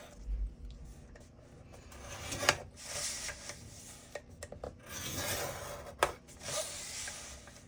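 A scoring tool is drawn along paper in repeated close, soft rasping strokes with small taps between them, quiet and near, while making a paper book-in-a-box craft.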